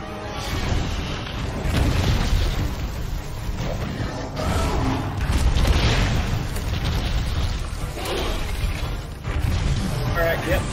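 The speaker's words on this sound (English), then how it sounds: "But explosions seem to be hurting you." Explosions strike a monster in Monster Hunter World Iceborne, with repeated heavy booms and bursts rolling through a loud, dense game soundscape that stays constant for about ten seconds.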